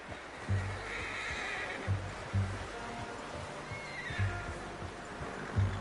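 A horse whinnies loudly several times in the video game Red Dead Redemption II, over a steady background rumble, with faint hoofbeats and quiet talking.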